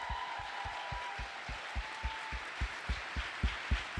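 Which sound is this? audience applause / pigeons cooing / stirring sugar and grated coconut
audience applause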